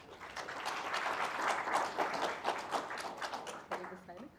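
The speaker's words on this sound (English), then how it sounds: "And a round of applause as he comes." Audience applause at a Nairobi City Marathon event as the Athletics Kenya president walks onto the stage, steady massed clapping from a nearby crowd that carries on for several seconds before fading into scattered claps.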